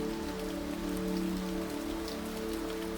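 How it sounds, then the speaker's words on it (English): Steady rain falls on a mountain safari tent during the rainy season, a dense, even patter of drops close by that runs continuously with no voices. "Our custom tent keeps damp cold out, raindrops falling gently from the eaves."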